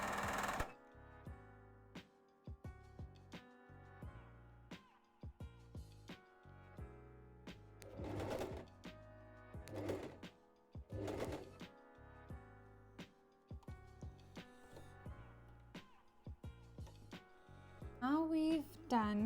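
Empisal A120 domestic sewing machine stitching a buttonhole, with repeated bursts of rapid mechanical whirring and clatter separated by short pauses, fairly close and moderately quiet, with a few small handling thunks.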